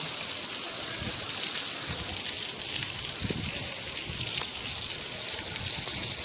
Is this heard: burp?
no